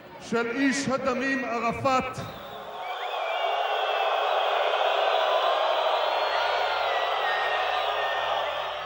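Large crowd at a political rally in Israel roaring and cheering continuously and loudly, following someone speaking briefly at the start.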